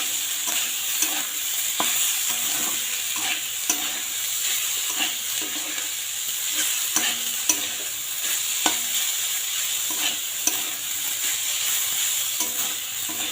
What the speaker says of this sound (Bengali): ভাতটা এখন আমি ভেজে নেব।